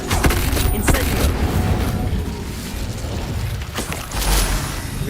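Incendio fire spell in Hogwarts Legacy, a dense roaring burst of flame and impact rumble sustained throughout, loud and close, with game combat noise layered in and swelling again near the end.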